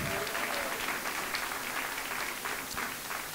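Church congregation at a Dubai event clapping to Jesus, a steady wash of many hands applauding together, fairly distant and sustained without letup, with faint voices mixed in underneath.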